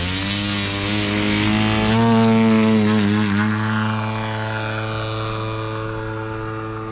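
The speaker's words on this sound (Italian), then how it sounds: "quello è un trainante, per l'Aliante" A model tow plane for launching gliders drones loudly and close with a buzzing, harmonic engine note that rises and bends in pitch midway, then settles into a steady whine as it passes.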